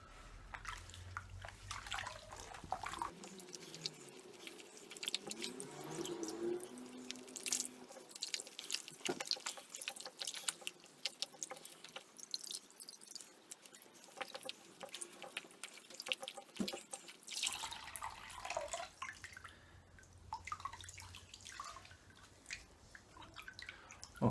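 Warm water rinsing soap from a foam air filter for a classic Mini Cooper, with steady dripping and splashing into a basin throughout, louder running water in the middle stretch, close and without speech.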